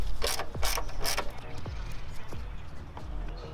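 A ratchet wrench clicks in quick bursts while loosening 10mm bolts on a car's ABS unit, about five close ratcheting runs with brief pauses between them.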